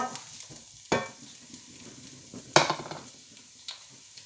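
Carrots and broccoli are tossed into a pan with softened onions and garlic and cook with a soft sizzle, broken by a few sharp utensil scrapes and knocks against the pan.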